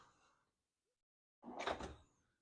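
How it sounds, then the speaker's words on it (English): A tool drawer labelled for American sizes slides open in a workshop, one short rolling scrape after a brief soft rattle and a moment of quiet. "Open up my American drawer."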